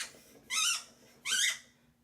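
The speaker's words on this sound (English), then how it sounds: "you can't squeak that thing in here." A pet dog squeezing a squeaky toy indoors right beside a microphone: two loud, close, drawn-out squeaks about half a second apart, each standing alone over quiet room tone.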